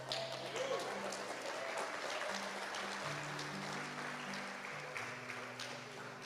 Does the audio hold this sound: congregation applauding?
yes